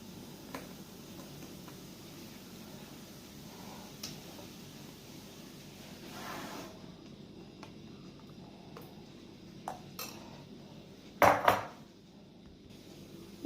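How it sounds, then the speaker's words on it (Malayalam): Ice cubes drop into a glass of grape juice with soaked chia seeds, giving a brief cluster of close, bright clinks near the end after a long, quiet stretch of faint kitchen noise. "ഐസ് ക്യൂബ് ഇടുന്നു."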